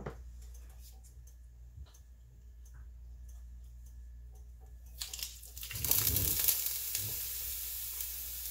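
Oil sizzles in a pan for sautéed vegetables, a low, quiet crackle that suddenly flares into a loud, bright hiss near the end and then settles into a steady sizzle.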